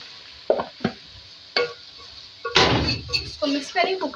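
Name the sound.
stirring and cooking potatoes and okra in a pot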